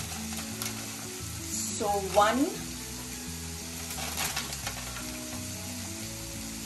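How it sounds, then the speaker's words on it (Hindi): Flour stirred into melted butter in a frying pan on a low flame for white sauce, giving a soft, close sizzle with scraping stir strokes, and someone speaks briefly. "अच्छी तरह से मेल्ट होते ही अब मैं इसमें डालूंगी मैदा।"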